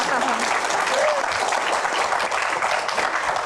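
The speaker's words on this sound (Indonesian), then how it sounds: "Oke, tepuk tangan" Audience applause at a Q&A event, a full, even wash of many hands clapping throughout, fairly close, with a voice briefly audible over the clapping.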